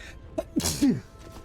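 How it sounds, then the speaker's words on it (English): A single sharp sneeze with a quick inhaled build-up, close and fairly loud, then quiet room tone. "I'm gonna sneeze."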